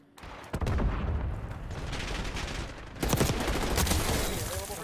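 Rapid gunfire rattles in the Black Ops 6 video game, loud, close and sustained, with a fresh heavier burst partway through over constant game noise.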